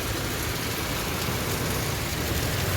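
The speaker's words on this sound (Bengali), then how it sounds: "পুরা বৃষ্টি হচ্ছে পুরা" Heavy rain pours steadily near Sonada in the Darjeeling hills as a dense, constant hiss with a faint vehicle rumble underneath and no voices.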